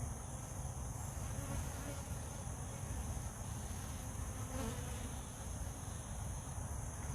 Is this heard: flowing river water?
no